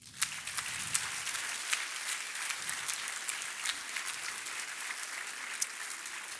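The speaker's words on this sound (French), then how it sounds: "Applaudissons-les également." Steady applause from the audience at a master's degree graduation ceremony in human resources management, a continuous, even patter of many hands clapping at moderate distance.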